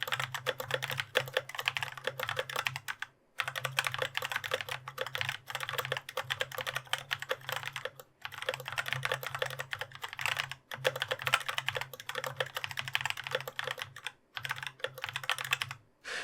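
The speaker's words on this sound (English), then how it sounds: "the Brown switches are a good blend between tactile feedback and lower noise output." Continuous fast typing on a Genesis Thor RX85 mechanical keyboard with Brown switches, dense rattling clicks and key bottoming close up, broken by a few brief pauses.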